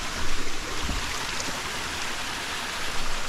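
A stream on a hiking trail flows with a soft, steady babble and light splashing nearby, with no talk over it.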